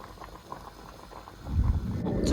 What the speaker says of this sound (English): To boil my goat meat